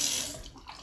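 Hot water runs from a repaired Moen Eva bathroom sink faucet, a soft, brief, hissing trickle that sounds fairly faint and carries no voices.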